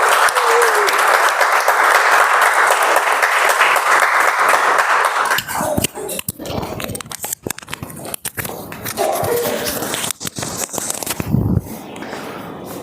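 Applause at a Toastmasters club's 175th meeting celebration: loud, dense clapping from a room of members fills the first five seconds, then breaks into scattered claps, shuffling and murmuring voices as it dies away.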